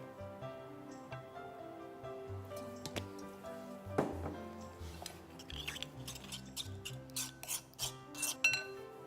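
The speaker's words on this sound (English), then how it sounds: "Just a dash of water to mix it well." Quiet wet mixing and scraping sounds, a spoon rubbing and squishing a paste of turmeric and other spice powders with a dash of water in a bowl, with soft clinks near the end.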